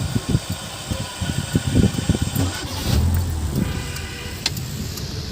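A car with a check-engine fault and hard morning starting, just fitted with a new air temperature sensor, cranks and fires, then settles into a steady idle close by with mechanical whirring and a few clicks, and no one speaking.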